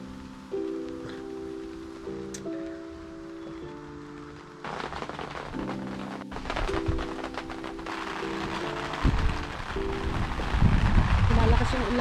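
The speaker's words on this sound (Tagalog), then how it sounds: "Oh, it's raining." Rain falling outdoors during an outdoor lunch in Edmonton over a Canada Day long weekend: a steady broadband patter that grows heavier toward the end, mixed with speech and tonal background sounds.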